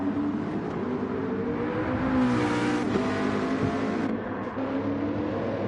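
Race car engine held at full throttle in Gran Turismo 7 during a Japanese Touring Masters online race, a steady loud drone whose pitch climbs and shifts with gear changes for several seconds, with no talk.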